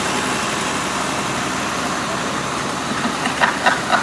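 A 1924 International 43 tractor engine runs steadily at a parade after a crank start, a continuous low chugging drone with a few sharper knocks near the end.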